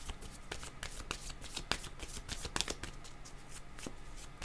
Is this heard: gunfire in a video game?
no